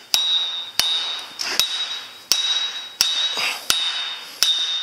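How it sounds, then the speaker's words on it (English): A brass hammer strikes a steel well casing pulled from a Case WD2303 windrower. Seven sharp metallic clangs sound about once every second. Each hit rings on with a bright tone that fades slowly, close up, with no talk over it. "you could smack it with this brass hammer"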